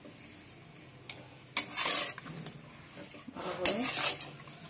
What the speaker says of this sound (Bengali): খুন্তিটা দিয়ে ভালো করে মাখিয়ে, হাত দিস না, হাত জ্বালা করবে